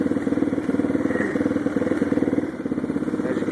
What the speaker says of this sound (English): I mean, it idles really nice.